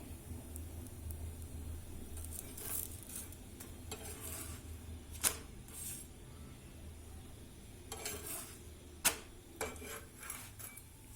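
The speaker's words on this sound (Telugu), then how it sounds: "రెండో వైపు కూడా కొంచెం ఇట్లా బ్రౌన్ స్పాట్స్ వచ్చేలాగా ఫ్రై చేసుకుందాం." Green peas paratha frying on its second side on a griddle gives a faint, steady sizzle, with a few soft clinks and ticks scattered through.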